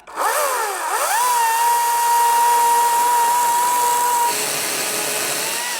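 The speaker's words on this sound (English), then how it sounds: "I definitely don't want to hit a bolt head with a chainsaw." A chainsaw cuts through wood aboard a boat, revving up sharply and then holding a loud, steady, close whine as it bites into the timber, easing slightly near the end, with no talk.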